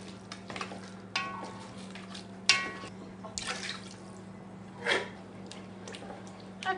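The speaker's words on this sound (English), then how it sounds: "I'm adding a 28-ounce can of crushed tomatoes to" Crushed tomatoes from a 28-ounce can pour into a pot of braising beef short rib base, with wet glops, drips and scrapes against a steady low hum, fairly quiet and close.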